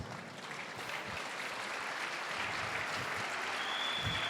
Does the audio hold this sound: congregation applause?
yes